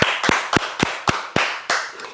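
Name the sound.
church congregation clapping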